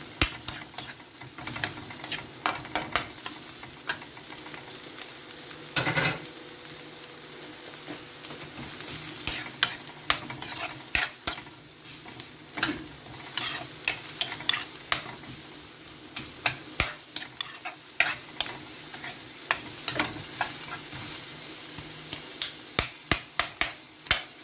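Garlic and onion sizzle steadily in a hot pan while being sautéed for a shrimp and bok choy dish, with frequent sharp crackles and pops over a continuous frying hiss.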